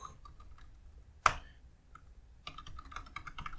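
Terminal command being typed on a computer keyboard, faint quick key taps with one sharper click near the start and a denser burst of keystrokes toward the end.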